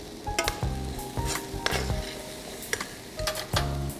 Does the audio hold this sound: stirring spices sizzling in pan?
yes